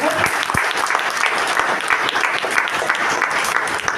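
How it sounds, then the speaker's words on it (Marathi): Audience applause at a school event welcoming a guest, a sustained burst of many hands clapping with scattered sharper claps, a faint voice or two underneath. "मला वाटतं ह्याच्यासाठी त्यांना जोरदार टाळ्या वाजल्या पाहिजेत"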